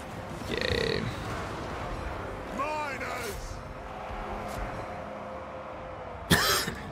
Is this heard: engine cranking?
no